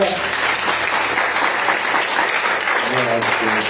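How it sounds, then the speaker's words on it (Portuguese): A church congregation claps in praise to the Lord during a pastor's sermon, a full, continuous wash of applause with a voice speaking over it near the end. "E as palmas e louvor ao Senhor"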